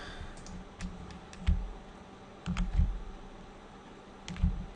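Computer keyboard keys tapped while playing the PC role-playing game Dark Sun: Wake of the Ravager, a few scattered clicks and short bursts of typing, close and fairly quiet, with no talk.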